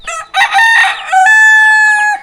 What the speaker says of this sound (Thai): โอ้ยม่วนแท้เด้เสียงไก่นี่เนาะ